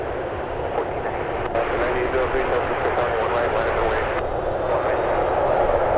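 An airliner taking off from runway 1 right at San Francisco, a broad, sustained engine roar heard from a distance, steady and loud, with radio talk over it.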